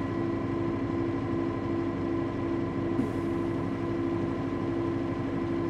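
An Arbos tractor engine holds a raised speed of around 1500 to 1800 rpm, a steady, even drone with a strong tonal hum, continuous and unchanging with no talk.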